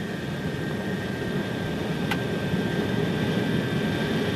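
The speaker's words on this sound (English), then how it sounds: "This is the takeoff." Airliner jet engines at takeoff power, a loud steady roar with a constant high whine heard from inside the cockpit, continuous and unbroken throughout.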